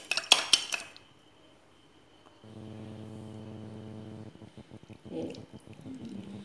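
A spoon clinks against a bowl while a salad is tossed with salt, chili powder and pepper powder. A quick burst of close clinks is followed by a steady hum, then softer scattered taps and scrapes.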